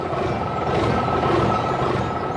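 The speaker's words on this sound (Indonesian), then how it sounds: "Truk merah bekerja." A red truck at work rumbles in a steady, loud, continuous drone of engine and machinery, close by with no voices.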